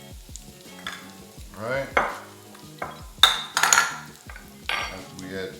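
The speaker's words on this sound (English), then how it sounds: "now that our onions and our garlic has been sauteed, now we want to add our potatoes." Potatoes tumble into a pot of sauteed onions and garlic with sizzling, clattering and scraping utensil hits against the pan, close and uneven, with a brief spoken word.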